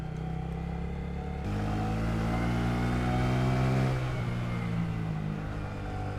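A Honda Grom motorcycle engine pulls steadily up steep, muddy off-road hills in cold air, its mid-pitched note climbing and falling through the gears, close and continuous without talk.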